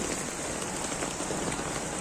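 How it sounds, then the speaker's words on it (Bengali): Heavy monsoon rain in Mumbai pours down steadily, a dense, constant hiss of drops striking surfaces all around, with no voices. "মুম্বাইতেই প্রথমবার দেখলাম এত পরিমাণে বৃষ্টি"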